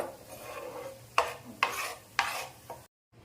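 Ingredients lightly fried in a pan until golden for Khandeshi katachi amti, a continuous sizzle with three or four sharp close scrapes of a spoon against the pan, then a sudden cutoff into silence, no talk.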